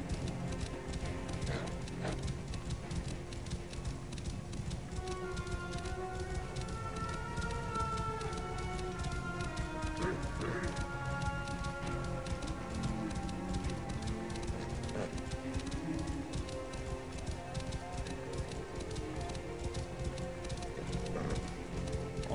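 Steady clip-clop of a horse's hooves at a quick, even pace in the video game Assassin's Creed Origins, continuing throughout, with chirping birds and cooing doves in the background.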